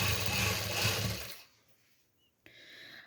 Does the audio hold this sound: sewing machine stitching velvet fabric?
yes